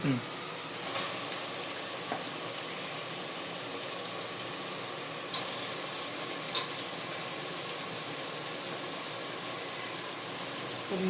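A steady hiss of chicken frying in a pan with curry leaves for chicken curry, with a few small pops and crackles over the sizzle.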